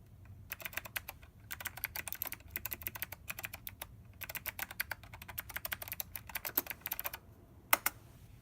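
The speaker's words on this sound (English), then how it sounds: "This uses Alps mechanical switches." An old serial AT keyboard with Alps mechanical switches is typed on in fast, crisp bursts of clacky keystrokes, each run broken by short pauses. The keys sound close, with a louder key hit near the end.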